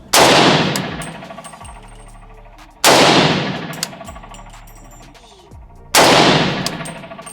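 A PSA AK-300 Krink short rifle chambered in .300 Blackout fires three single shots about three seconds apart, each a loud, sharp crack followed by a long ringing echo.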